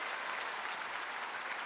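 A church congregation applauds during a Sunday afternoon worship service, steady dense clapping filling the room at a constant level for the whole moment.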